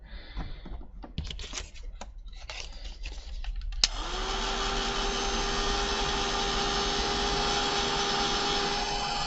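After some light handling noises, a heat tool switches on with a click to dry stamped ink on card, giving a steady, loud whirring blow with a high whine that runs on without a break.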